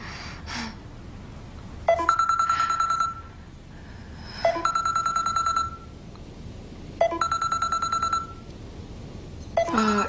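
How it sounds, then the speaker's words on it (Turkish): A telephone rings in repeated electronic bursts, four rings spaced a couple of seconds apart, clear and fairly loud in a quiet room, with nobody picking up. "Telefoningiz bo'yam jiringlaganda javob bermadingiz."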